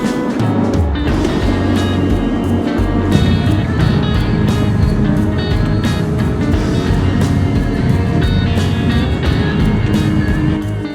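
Pickup truck driving on a road in the Rocky Mountains on the way to refuel, a steady loud engine and road rumble running continuously, with no talk.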